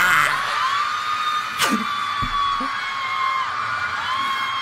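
Screaming and cheering from a large concert crowd at a show plays back, with high shrill whoops, yells and a sharp bang over a dense crowd roar.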